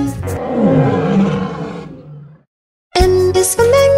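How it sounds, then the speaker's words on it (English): A lion's roar, used as an animal sound in a children's alphabet nursery song, rumbles loudly for about two seconds and fades into a short silence before bright music starts. "L is for lion"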